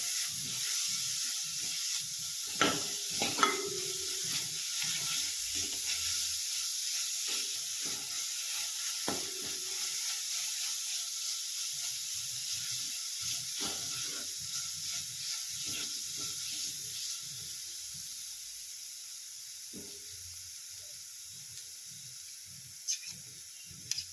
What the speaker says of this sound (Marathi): आता आपल्याला थोडा वेळ भाजून घ्यायचा आहे